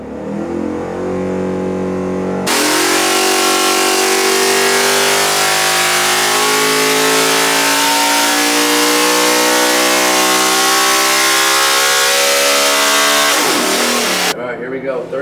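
A carbureted engine with new pistons and rings, set at 32 degrees timing with a VPQ16 fuel and a big carburetor, revs on a dyno, rising in a long, loud, steady climb before cutting off sharply.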